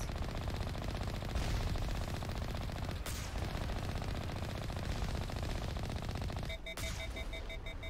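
Rapid automatic turret fire in the Mass Effect: Legendary video game, a continuous dense rattling burst that runs for the whole stretch, broken briefly by a sharp crack and joined near the end by a high beeping alarm tone.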